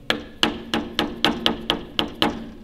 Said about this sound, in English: now I take a small screwdriver and a hammer